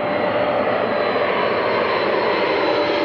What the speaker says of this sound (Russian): Ювелирная посадка со спутником на борту.